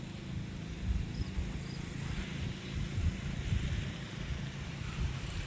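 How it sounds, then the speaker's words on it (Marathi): A constant low roar of water rushing from a dam spillway, broad and steady with wind buffeting the microphone, heard from a short distance. "बघा त्या सांडीतून पाणी येतं मित्रांनो एकच सांडीतून पाणी येत आहे"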